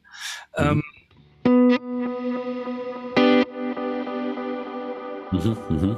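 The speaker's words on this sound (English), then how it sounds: "So now you get the guitar signal on the left and the right, a little bit more wider stereo sound" Electric guitar played through a Kemper Profiler with a wide stereo modulation effect and high feedback and mix, sustained chord notes ringing with shimmering echo, between short bursts of someone talking.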